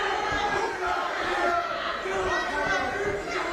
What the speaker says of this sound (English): the crowd erupting every single time Vuong lands a shot